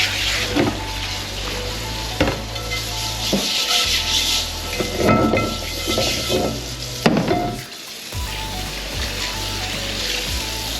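A new cast iron skillet being scrubbed clean, steady close rubbing and scraping strokes throughout with brief pauses and a few sharper knocks against the pan.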